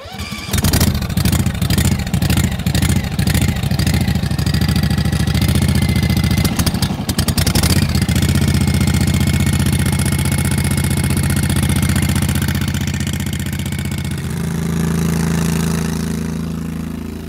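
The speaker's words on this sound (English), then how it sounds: "Then you're going to pull the choke and then start the engine." A small engine powering a 1.5 inch gear-driven water pump starts with a few rapid pulls, catches and settles into a loud, steady, close running drone that continues to the end.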